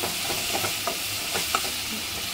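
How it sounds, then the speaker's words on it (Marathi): Chopped onions sizzle and are stirred in a pan while pasta is being prepared, a soft continuous frying hiss with a few light spatula scrapes, close but fairly quiet. "आता ही कांद्यामध्ये परतून घ्यायची असते"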